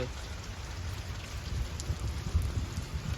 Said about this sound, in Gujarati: આ બધ દેખાડ મિત્રોને કે કેવો વરસાદ ચાલુ છે